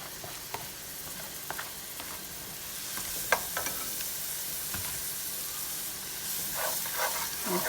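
Jalapeños and garlic sweat in a frying pan for a shrimp discada, giving a soft, steady sizzle and hiss with occasional light pops and spoon taps.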